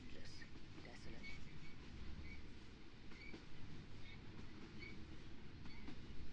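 A train runs steadily through a desert in the video game Phoenix Springs, a low continuous rumble with faint rail clatter, heard alone without talk.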